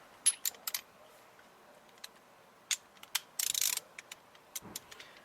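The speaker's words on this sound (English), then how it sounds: "get them in the rest of the way with the ratchet" A ratchet tightens bolts on a 2008 Nissan Altima steering wheel, giving close, crisp clicking bursts in irregular short runs, including one rapid rattling stretch, in a quiet setting.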